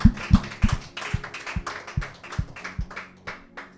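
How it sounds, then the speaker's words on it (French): A church congregation claps during a bilingual French and Spanish sermon. The hand claps are loud and distinct, fairly regular, and start strong before gradually thinning and softening, with no talking over them. "Applaudissez-le, Seigneur."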